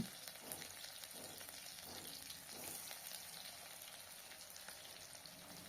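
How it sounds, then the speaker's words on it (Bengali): Fish-oil fritters (bora) deep frying in oil over a medium gas flame, a faint, even hiss of bubbling oil with soft rhythmic pulses running throughout. "বড়া ভাজার সময় গ্যাসের ফ্লেমটাকে মিডিয়ামে রেখে অল্প সময় ধরে ভাজতে হবে"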